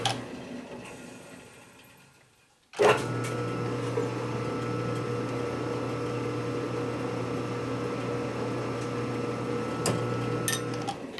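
Threads are cut on an M8 rocker arm stand stud on a 2020 machine. After a quiet start, a machine motor starts up with a sharp onset and settles into a steady whirring hum, with occasional faint ticks.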